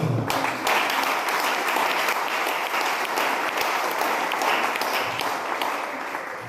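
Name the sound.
church congregation applauding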